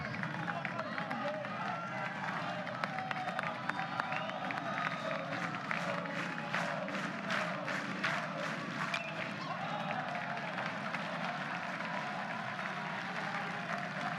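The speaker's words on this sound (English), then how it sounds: "It's the most this crowd's been into it" A college baseball crowd at a regional final cheers and claps in rising waves, the noise building into bursts of rhythmic clapping, while a commentator keeps talking over the din.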